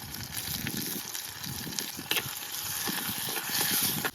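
Crushed onion, garlic and ginger sizzle in hot oil with cumin for a village-style country chicken rasam, giving a steady close crackle with occasional stirring clatters from the pan.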